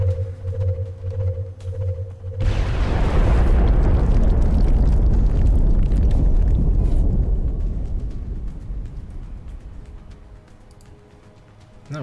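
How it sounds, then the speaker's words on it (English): In XCOM: Enemy Within, a steady electronic tone gives way to a rocket blast: a loud, booming explosion that swells and then rumbles on, slowly fading over several seconds. "Firing rocket."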